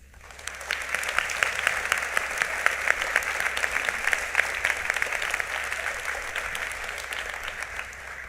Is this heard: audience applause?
yes